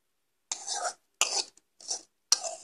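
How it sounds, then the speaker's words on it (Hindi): Lightly roasted rice tipped into boiled milk for kheer comes as four short rustling, scraping pours with brief pauses between them, close and crisp against silence. "अब मैं चावल को मैंने हल्का भून लिया है तो इसे मैं अब दूध में डाल दूंगी।"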